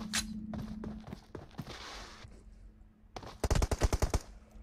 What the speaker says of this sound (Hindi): ये ब्लेड को मार दिया, बहुत ही अच्छा शॉट